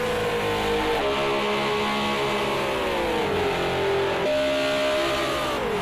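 Renault RS 01 race cars in Project Cars 2 roar down a straight, engines revving steadily with gear-shift pitch drops, loud and continuous with no talk over them.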